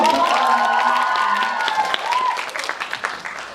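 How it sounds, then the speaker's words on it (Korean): A talk show audience breaks into applause that starts full and gradually thins into scattered claps, with a voice speaking over the opening moments. "여러분, 박수 지금 안 주셨는데 한 번만 더"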